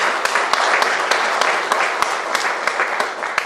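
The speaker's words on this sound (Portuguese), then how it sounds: "Uma salva de palmas para o Senhor." A church congregation applauds together, a steady close wash of many clapping hands that holds evenly for a few seconds.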